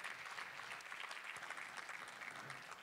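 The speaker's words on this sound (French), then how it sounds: "est-ce qu'on peut applaudir Naya qui est là, la petite Naya?" Steady applause from a church congregation, dense and even throughout, heard from a distance and fairly quiet, with no talking over it.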